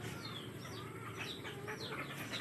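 Backyard chickens in a small Filipino coop cluck softly and steadily while being fed split feed, with scattered higher calls over a constant farmyard background.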